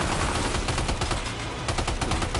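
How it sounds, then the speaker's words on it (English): Sustained rapid gunfire in Death Stranding 2, a dense loud barrage of overlapping shots filling the whole stretch with no pauses and no voices. "Opening fire now."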